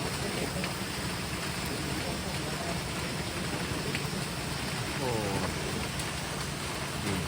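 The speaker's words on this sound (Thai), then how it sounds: "นี่คือวันฝนตกน้ำท่วม" Steady rain hisses down in a constant wash during a flooding downpour, with a voice faintly speaking partway through beneath the rain.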